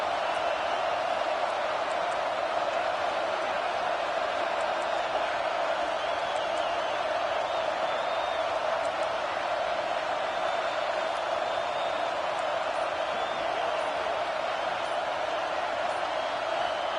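A stadium crowd at an Indiana vs Ohio State football game produces a steady, dense roar throughout, a continuous wash of noise with no breaks.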